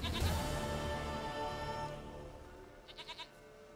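A goat bleats loudly and up close in the video game The Witcher 3: Wild Hunt, a wavering cry that fades into a few short, quieter bleats at the end.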